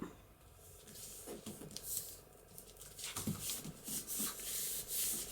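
A glued paper picture is burnished onto card, making soft, close rubbing and scraping strokes in short, uneven bursts. No one is speaking.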